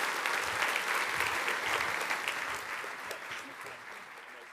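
A conference audience at London Tech Week applauds speaker Stefan Kuster with a full burst of clapping that starts strong and slowly tapers off, with faint voices mixed in.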